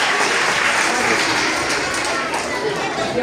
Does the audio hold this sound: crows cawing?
no